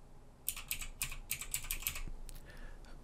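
Quick bursts of keystrokes on a computer keyboard, a rapid run of close, crisp clicks followed by a few slower, softer taps, with no talking.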